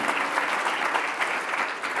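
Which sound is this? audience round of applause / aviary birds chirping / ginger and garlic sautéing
audience round of applause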